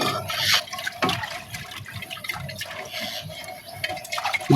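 Lentils being rinsed in water: soft sloshing and splashing with occasional drips and trickles, fairly quiet and irregular.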